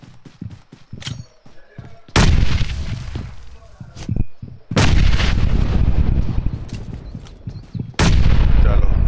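Loud bursts of video game gunfire, several sharp, heavy shots and sustained volleys with brief quiet gaps between them.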